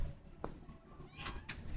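A cat meows a couple of short times nearby in an outdoor yard setting, the calls brief and moderately loud against a steady background rumble, with no talking.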